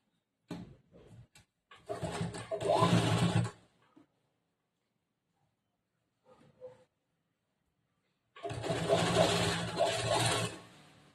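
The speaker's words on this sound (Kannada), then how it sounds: "ಈ ಮೇನ್ ಕ್ಲಾತ್ ಇದೆಲ್ಲ ಈ ತುದಿಗೆ ಒಂದು ಹೊಲಿಗೆ ಹಾಕ್ತೇನೆ" Two bursts of a sewing machine stitching along the edge of the main cloth of a kurta over canvas, each running a couple of seconds, close and fairly loud, with a short pause and small clicks between.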